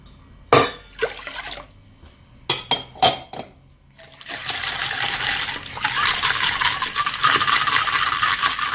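Water is added to a bagel dough mixture: a few sharp clinks of a utensil against a bowl, then a steady, fairly loud stream of pouring water that runs without a break to the end.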